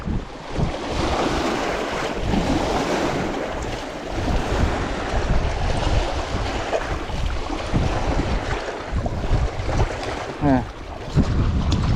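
A boat rocks on choppy waves on the Tbilisi Sea, with water sloshing and slapping against the hull and strong wind buffeting the microphone in a continuous loud roar.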